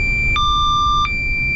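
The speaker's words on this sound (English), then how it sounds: "It will keep giving this alarm, and it is a safety feature." A ship's walkie-talkie sounds its safety alarm as a steady, shrill electronic tone. A second, higher tone joins for under a second over a low hum of engine noise, then the single tone carries on.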